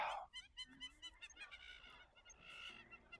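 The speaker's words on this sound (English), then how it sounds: "that sounds like monkeys or parrots laughing at me" Animal calls in the game Baby Steps sound like monkeys or parrots laughing: a burst of short, nasal, honking cries in uneven clusters, fairly close and moderately loud over quiet ambience.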